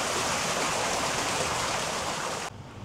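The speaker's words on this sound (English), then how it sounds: "beautiful cascading water features, and there's a swimming pool" A cascading water feature beside a hotel swimming pool in Seminyak, Bali, pours in a dense, loud, continuous splash close by, cutting off abruptly near the end.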